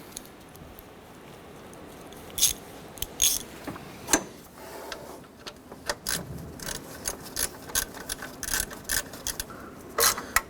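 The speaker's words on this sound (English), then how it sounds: "With all three of those bolts started, let's go ahead and snug them down." Ratchet snugging down exhaust bolts on the front catalytic converter of a 2008-2012 Honda Accord, heard as scattered clicking and metallic bursts at close range with no talk.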